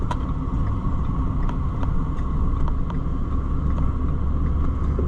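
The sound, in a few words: car driving past in downtown traffic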